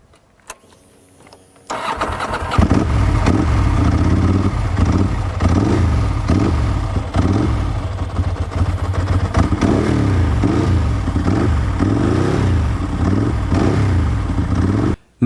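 A Ducati 748 S sport motorcycle is cranked and fires up after a short quiet moment, then idles loudly and blips its throttle in repeated revs, close by with no talk.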